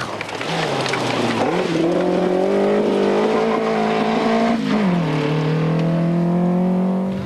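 A Renault 4 rally car engine roars loudly and steadily, its pitch climbing and dropping through gear changes as it drives past close by at a 2003 rally.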